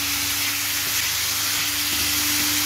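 Dry rice vermicelli being stir-fried in a pan gives a steady, close sizzle with soft hiss and faint stirring scrapes, continuous throughout with a low steady hum beneath.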